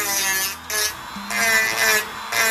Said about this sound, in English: you just kind of like grind that out